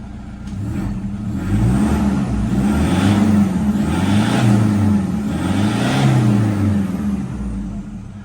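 After an intake cleaning and EGR block-off, a car engine is revved in about three smooth rises and falls, each swell climbing and easing back in a loud, close, continuous drone.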